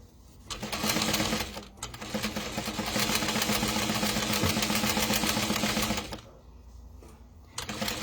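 An industrial sewing machine stitches a wallet with a steady, loud, rapid mechanical whir that runs for several seconds. It pauses briefly partway through and quiets near the end.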